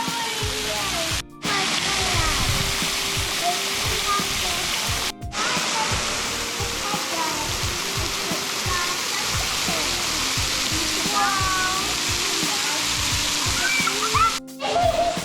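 Waterfall on the Blue Ridge Parkway, a steady, loud broadband rush of falling water that fills the scene continuously, with brief dips and occasional voices nearby under the roar.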